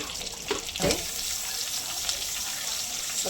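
Chillies, curry leaves, cumin and ginger paste sizzle steadily in hot oil in a pan for tomato chutney, with a few brief clatters from stirring.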